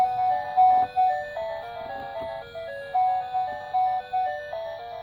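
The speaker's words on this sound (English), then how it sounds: "open flat to play authentic theme music from the original Nintendo video game" Tinny electronic chiptune of the Friday the 13th NES game theme playing from a sound chip in NECA action figure packaging, a repeating melodic phrase of short plinking notes, clear and alone.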